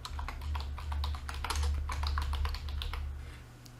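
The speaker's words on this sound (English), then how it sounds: "So for example, I'm going to type in bipolar disorder." Close, quick typing on a computer keyboard as a search is entered, a rapid run of crisp key clicks over a low steady hum.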